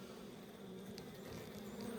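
Honey bees droning steadily at a sparsely populated hive with little brood, a continuous close buzz with no pauses, heard alone without talk.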